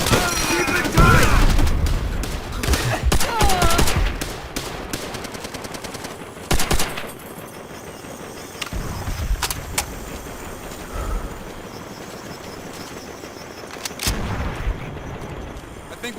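Machine gun and artillery fire in a Call of Duty: World at War battle, with dense bursts of gunfire early on, then sporadic loud shots and blasts over a steady, busy combat din.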